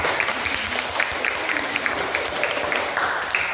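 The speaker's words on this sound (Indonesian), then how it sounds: "Silakan berikan tepuk tangan untuk kelompok 2." University classmates in a classroom counseling session applaud a student group, with brisk, lively clapping from a modest crowd that holds steady for several seconds.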